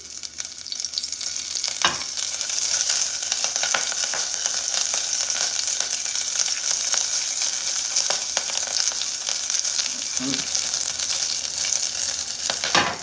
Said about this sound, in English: Go in with my scallions. I just rip these apart a bit.